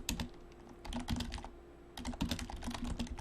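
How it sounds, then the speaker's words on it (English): Rapid clacking keystrokes on a computer keyboard during an Overwatch esports match, continuous bursts of close typing with a brief pause midway. "so you don't hear the clack, clack, clack, clack, clack, clack, clack of me typing"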